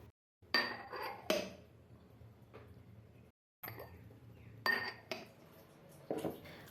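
Glass kitchen dishes knocking and clinking against each other during cleaning, several sharp chinks in irregular bursts over a soft background hiss, separated by a brief silent gap.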